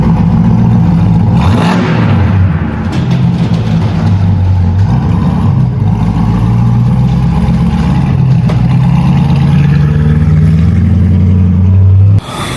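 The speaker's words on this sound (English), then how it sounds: "The car sounds so good, guys. This car sounds so good." A Corvette Stingray engine revs loudly and steadily, a deep throaty roar that rises and holds close to the microphone, then cuts off near the end.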